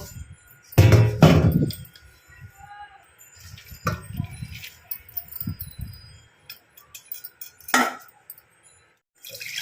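Boiled Maggi noodles are tipped into a strainer, with a short, loud rush of pouring water followed by clinks and scraping of the pot and strainer in a home kitchen.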